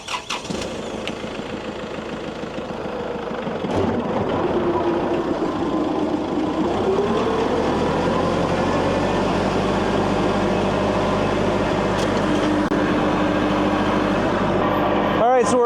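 A forestry mulcher mounted on a tractor starts up and spins up to a steady, loud drone of about 1,500 RPM in chilly 15-degree weather, with speech partly heard over the machinery.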